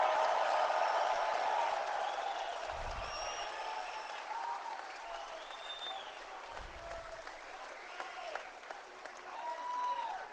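A town hall crowd in Stoney Creek applauds and cheers for a political rally speaker, sustained clapping from a large room at moderate distance, tapering slightly as scattered shouts rise above it.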